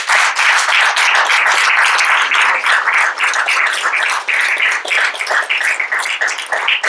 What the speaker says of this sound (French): et tout particulièrement Anne, que je vous invite à applaudir.